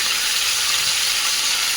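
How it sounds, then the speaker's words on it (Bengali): Onions and green chillies with cumin seeds sizzling in hot oil in a pan, a steady close bright hiss and crackle throughout with no talk. "এটাকে একটুখানি জিরে ফোড়ন দিয়ে পেঁয়াজ আর লঙ্কা দিয়ে বসিয়েছি। এটা একটু ভাজা ভাজা হবে"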